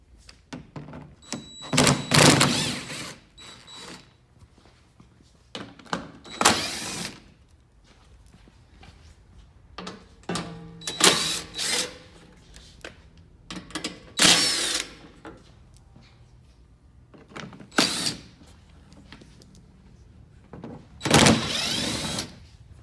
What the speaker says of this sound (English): Then just use your 10mm socket to remove the rest of the screws.